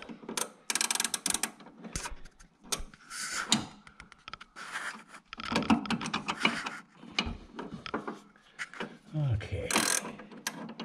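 A big wrench works a sway bar link nut loose on a C6 Corvette, giving irregular metallic clicks and clunks in bursts between short pauses, close and fairly quiet.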